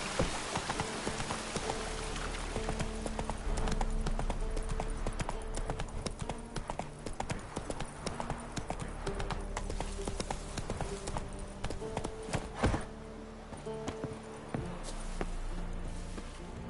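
Horse hooves clip-clopping in The Witcher 3 game, a steady rhythmic stream of close hoofbeats on a hard path, with soft rain-like patter and ambient game sound underneath.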